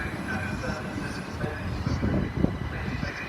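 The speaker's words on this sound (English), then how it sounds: "There's also a Thameslink 700 coming in." A Thameslink Class 700 train pulls into Gatwick Airport station, a loud, close rumble of wheels and traction noise with rising rolling surges, while a person talks over it.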